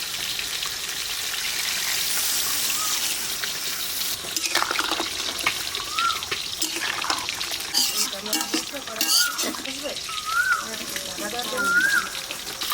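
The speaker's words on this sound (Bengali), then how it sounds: "এবার দুধ দিয়ে দেবো।" Milk poured into fried spice masala in a pan, a wet splashing and sizzling pour with soft bubbling and stirring knocks, close and continuous, growing busier toward the end.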